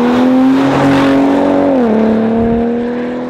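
A Ford F-150 Raptor off-road pickup's engine idles loudly and steadily nearby, its tone dipping briefly partway through before settling again.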